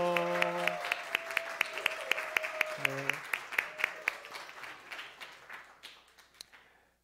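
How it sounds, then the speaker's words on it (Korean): A church congregation at a Sunday worship service claps for newly appointed youth officers, a modest, fairly quiet round of clapping with distinct individual claps, heard over a sustained musical tone that fades out as the applause tapers off. "예, 박수하겠습니다."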